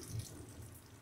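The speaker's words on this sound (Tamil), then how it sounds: "இந்த தண்ணியை வந்து பிரியாணியில் ஊற்றிடுவாங்க." Water left from boiling chicken is poured into biryani, a quiet, steady splashing stream throughout the brief moment.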